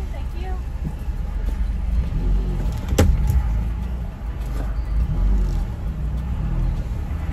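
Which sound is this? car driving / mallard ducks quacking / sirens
car driving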